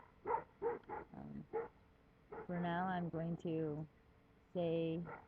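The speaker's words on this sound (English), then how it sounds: "You can probably hear my wonderful companion and guard dog barking" A guard dog barks and yips outdoors in a few short bursts, then gives longer drawn-out whining howls, close and fairly quiet, while a person talks over the start.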